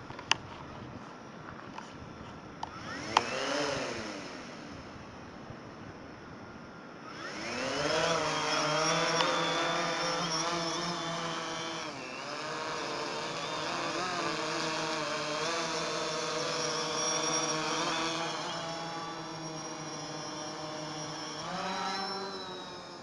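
DJI Phantom 3 Standard drone on a winter seaside flight in Jūrmala, Latvia: a few clicks, then a high buzzing motor whine that spins up into a sustained droning hover, wavering in pitch, with no voices.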